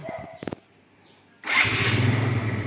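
A Yamaha Mio Sporty scooter-style motorcycle starts up: a few short mechanical clicks and cranks, then after a pause the engine catches and runs at a steady, close, fairly loud idle.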